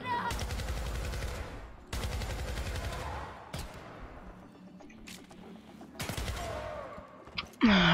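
Assault rifle fire from the 2012 Syndicate reboot game, loud sustained bursts with short gaps between volleys, ending in a sharp distinct shot.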